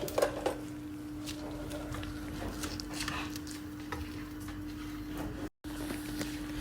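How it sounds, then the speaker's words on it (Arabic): Pistachios and almonds dry-roasting without oil in a pan, stirred with a utensil: faint, steady patter of light clicks and scrapes of nuts against metal, with a low steady hum underneath. "نقلي الفستق واللوز بس بدون زيت. وقلبي."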